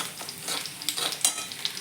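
Ground coriander, cumin, pepper, salt, turmeric and chilli powder frying in a pan with a spoon stirring through them, a close, steady sizzle broken by scraping strokes and a few sharper clinks.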